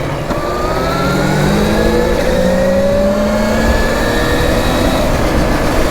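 A Velimotor VMX12 80V electric dirt bike accelerates hard in third gear, its motor whine rising steadily in pitch over loud, close wind and road rumble, with no talking.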